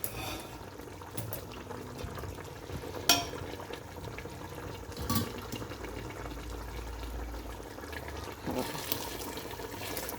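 Water is poured into a cooking pot of soaked rice and cooked chicken for white chicken pulao in a home kitchen. It makes a faint, continuous splashing under low room noise, broken by a few soft clanks.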